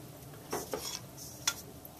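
A teaspoon scoops and sprinkles sand to make a sand base around painted model rockwork, giving a few brief, quiet scrapes and clinks over a soft background hiss.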